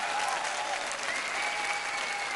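Studio audience applause at a Turkish music entertainment show, a steady, dense clapping that fills the whole stretch evenly with no voices over it.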